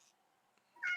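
Cat people in a fantasy video game give a short, bright meow near the end, after near silence.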